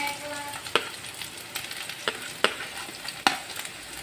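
Potato, onion and garlic frying in oil, a steady close sizzle punctuated by several sharp scraping stirs of a spatula at irregular intervals.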